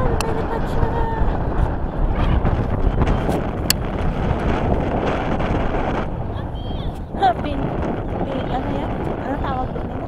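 Steady wind buffeting a microphone outdoors at Lake Balboa park, a constant low roar throughout, with faint voices and activity in the background.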